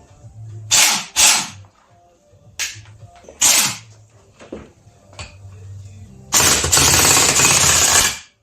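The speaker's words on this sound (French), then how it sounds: "on va essayer de le péter au pétard" Several sharp cracking bangs go off in bursts, then a long loud crackling blast of rapid explosions, close by.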